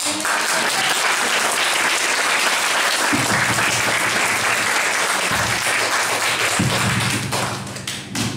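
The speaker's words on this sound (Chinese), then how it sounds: "掌声不够热烈" Sustained crowd applause in a hall at an academy end-of-term showcase, loud and continuous, with a few low thumping bumps and taps breaking through beneath the clapping.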